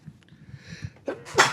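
A single sharp sneeze bursts out near the end, after a quiet moment with a soft intake of breath.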